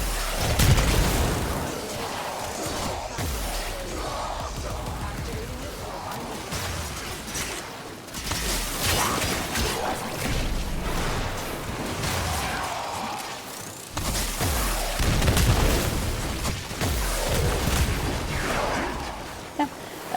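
Ember's fire abilities in the video game Warframe burst and roar continuously, with whooshing flames and booming blasts layered densely throughout, swelling loud in several waves.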